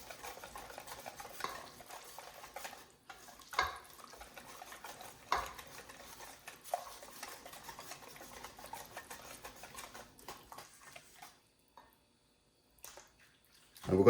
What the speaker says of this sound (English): So you want to make sure that you give it a good mix.